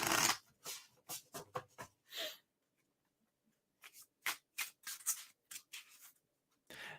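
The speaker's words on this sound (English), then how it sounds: "I feel comfortable shuffling it." A gilded-edge tarot deck of good cardstock is shuffled by hand in quick bursts of crisp riffling and sliding card noise, two clusters separated by a quiet pause, close and dry.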